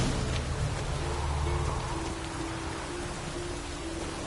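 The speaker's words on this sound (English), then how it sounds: "It just rains and rains." Steady rain pours down in The Witcher game, a continuous, even hiss that fills the scene from start to finish without any voices.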